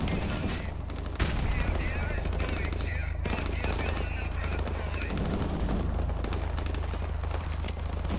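Sustained automatic weapon fire at BMP armored vehicles in Call of Duty Modern Warfare Remastered, loud and continuous with a low rumbling bed, with someone speaking German at times.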